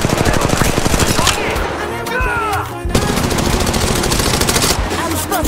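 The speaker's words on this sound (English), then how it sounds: "I'm spotted, taking fire" Rapid automatic gunfire in a video game, loud, dense bursts of shots rattling nearly continuously with a brief lull midway, layered with game effects and a voice speaking underneath.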